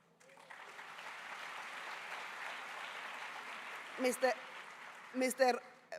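Crowd at a South African public lecture applauding the country's president, a broad even patter of clapping lasting several seconds, with a few sharper high ululation-like bursts rising near the end.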